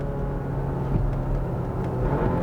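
A 2021 Audi Q5 45 TFSI's turbocharged base engine blips as its dual-clutch transmission downshifts with rev matching, a steady muffled cabin drone with brief rises in pitch, no talking.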